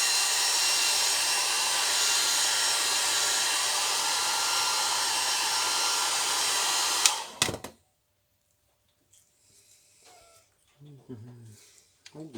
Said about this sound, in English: let's blast that with a hairdryer a bit